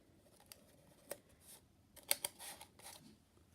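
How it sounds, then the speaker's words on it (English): Tape being applied to paper inside a cup: small crinkly snaps and brief tearing, peeling bursts, scattered and irregular, close but faint in an otherwise quiet room. "We just taped it"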